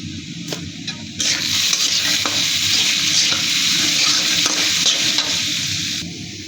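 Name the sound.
frying and stirring turmeric and coriander powder in pan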